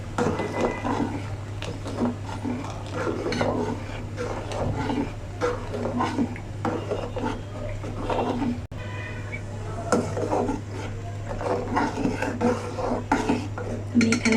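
A spoon scrapes and clinks against a pot of chicken soup thickened with cornflour, a busy run of repeated metallic stirring taps and scrapes over a steady low hum.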